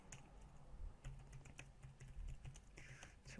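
Typing on a computer keyboard while writing a code comment, a steady run of close, soft key clicks at an uneven rhythm with no talk.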